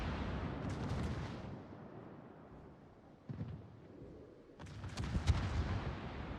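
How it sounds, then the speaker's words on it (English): Naval gunfire in World of Warships during a competitive Warships Classic grand final match, heavy booming salvos rumbling in bursts with a lull in the middle, then a dense cluster of loud shots near the end. "Everybody's shooting at him."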